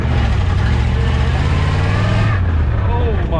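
A 1950s car engine running loud and close with a steady rough idle and a brief rise in revs near the end, while people talk over it.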